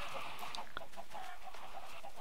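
Chickens cluck in a Minecraft coop, a few short, faint clucks from the game's livestock over a quiet background.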